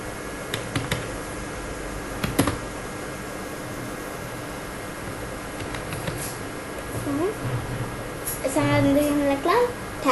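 An address is typed on a computer keyboard while sharing a location in Google Maps on a PC, with scattered clicky keystrokes over steady background hiss, and a voice joins near the end.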